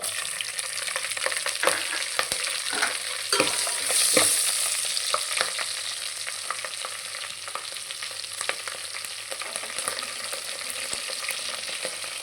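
Green chillies and onion fry in hot oil for Telangana bagara rice, a steady loud sizzle with occasional crackles and stirring scrapes throughout, no voices.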